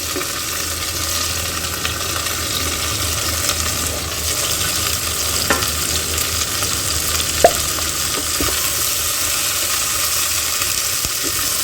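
Onions frying with whole cumin seeds in coconut oil give a steady, close sizzle that runs unbroken through the whole stretch, with occasional light clinks and stirring sounds and no voices.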